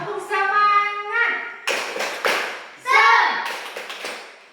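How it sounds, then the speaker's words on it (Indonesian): A class of children claps a rhythmic chant in bursts, sharp hand claps mixed with young voices singing and calling out, close and lively, with short pauses between phrases. "Tepuk semangat dulu."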